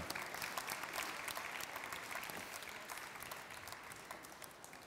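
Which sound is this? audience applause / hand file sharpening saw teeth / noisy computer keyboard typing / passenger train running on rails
audience applause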